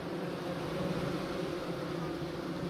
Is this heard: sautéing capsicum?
no